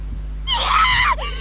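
A character in the Corpse Party horror video game lets out a single shrill, wavering scream lasting under a second, loud over a low steady game hum.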